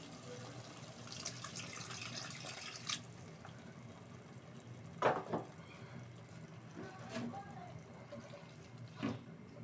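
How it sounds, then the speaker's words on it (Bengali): Water is poured into a pan of simmering rohu fish curry in a home kitchen, giving a soft, faint splashing trickle with a few brief louder splashes over low background noise. "এখন আমি জল দিয়ে দেবো।"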